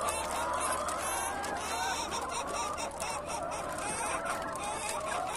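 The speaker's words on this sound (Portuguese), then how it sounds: "Mas é galinha, viado." Several chickens in a backyard coop squawking and honking steadily and loudly at close range, a dense continuous flock noise with no talk over it.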